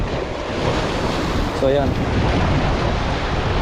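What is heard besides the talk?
sea waves surf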